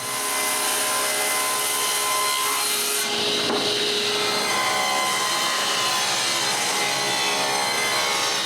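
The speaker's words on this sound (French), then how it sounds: "L'autre côté, lui, est coupé au banc de scie." A table saw whines steadily through wood, a continuous loud rasping cut with a brief shift in pitch partway through, no voices.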